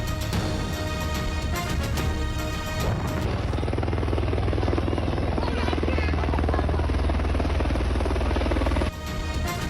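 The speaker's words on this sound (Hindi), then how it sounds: "बारात में हेलीकॉप्टर की एंट्री।" A helicopter arrives over a wedding procession in Mandi Bahauddin, its loud continuous rotor thump and engine whine dominating throughout, then cutting off abruptly near the end.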